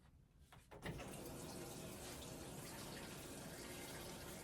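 Water gushes steadily from a tap as a detergent cup is rinsed out beside a washing machine, close and continuous after a brief tap-opening clunk.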